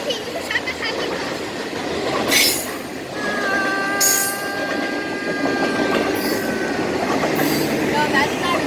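A BNSF intermodal freight train with distributed power units rolls past at the Rochelle railroad park, a loud, steady rumble of wheels with a long squeal of wheels on rail and clicking rail joints, with occasional talk nearby.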